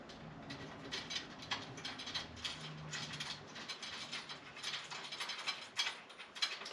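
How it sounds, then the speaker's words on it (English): A 1/2-inch ratchet clicks steadily in quick pawl bursts while bolts are loosened from a steel target faceplate at a target maker's shop, close and fairly quiet with no talk. "you just need a 1/2-inch ratchet to loosen these"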